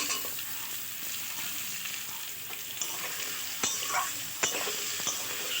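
Raw mango pieces fry with spices in a hot pan over lowered heat. A dense, even sizzle plays close and loud, broken by a few sharp scraping stirs near the end.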